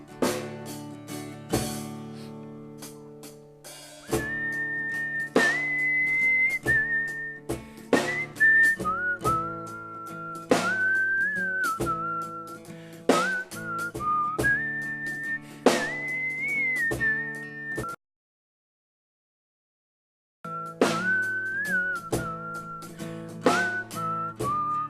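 A person whistles a flowing melody, clear and close, with sustained notes and slides, pausing briefly near the end before resuming.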